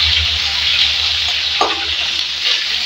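Green chillies fry in hot oil for a vegetable khichdi, giving a steady, close sizzle with a brief stirring clatter midway and no talking.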